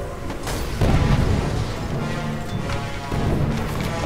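Mortar fire in the Toy Soldiers game comes as loud, low booms and crashes, a few heavy hits over a constant battle rumble.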